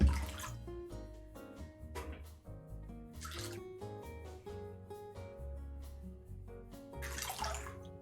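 Tap water runs and splashes in a kitchen while fresh parsley is washed, coming in intermittent gushes against a steady tonal hum, with no talking.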